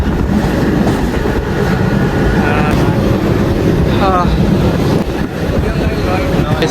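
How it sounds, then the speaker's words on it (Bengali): A train runs along tracks beside a highway as it crosses a long main bridge on the Mumbai to Navi Mumbai route, giving a steady, loud rumble with heavy wind noise throughout. "পাশে একটা হাইওয়ে তার সাইডে হচ্ছে ট্রেনের রাস্তা গাইজ শুরু হলো মেন ব্রিজ"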